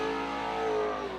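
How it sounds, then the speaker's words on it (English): Stock car engine revving steadily as the car spins donuts on a fairgrounds speedway after a Mid American Stock Car Series race, a sustained loud mid-range drone throughout. "Doing the donuts for the fans here"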